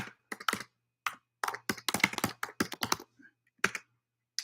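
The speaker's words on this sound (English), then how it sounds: "just take a second to type this." Typing on a computer keyboard during a university lecture, a close burst of quick, uneven key clicks with short pauses and a few separated taps near the end, no voices.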